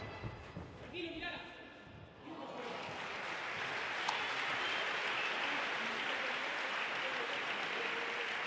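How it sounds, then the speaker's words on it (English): A crowd at a padel tournament breaks into loud, sustained applause that swells and holds steady after a short stretch of commentary-like voices at the start. "Crowd rising for that point."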